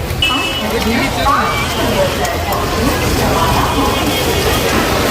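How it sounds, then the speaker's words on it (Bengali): Heavy rain pours steadily in Kolkata, a dense continuous hiss with the murmur of people talking faintly underneath, at a railway station. "মারাত্মক বৃষ্টি হচ্ছে এই মুহূর্তে কলকাতায়"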